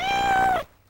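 A single clear cat meow from a Meow Mix crunchy cat food television commercial, close and loud, ending abruptly after under a second.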